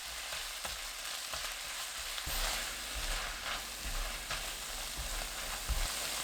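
Kimchi and green onion stir-fry with garlic in an oiled pan over medium heat, a steady close sizzle broken by irregular scraping and stirring knocks, with a louder burst of frying partway through.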